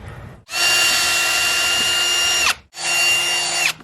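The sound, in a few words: power drill drilling holes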